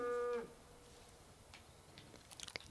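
A bull or ox in Far Cry 5 gives a single short, loud, low moo at the start, then fades into quiet farm ambience with faint rustling and a few small clicks near the end.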